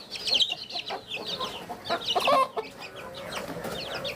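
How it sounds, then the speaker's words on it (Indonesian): A mother hen and her chicks in a backyard coop on a rainy day: soft clucking and high chick peeps overlap at close range, varying in loudness over a low, steady background. "Ini ayam, anakan ayam beserta induknya"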